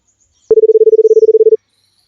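A phone gives out a loud, close electronic tone, one steady pitch pulsing rapidly for about a second, as a number is dialed, then silence.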